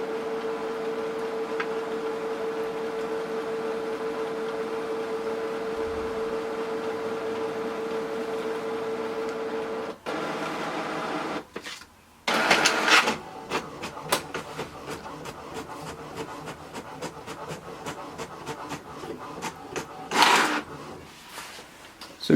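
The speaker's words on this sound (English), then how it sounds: "So we can see it has printed the test page 1." An HP Deskjet 3752 inkjet printer runs a test page: a steady motor hum gives way to paper feeding and a quick series of close ticking print-head passes, with a louder feed burst near the end.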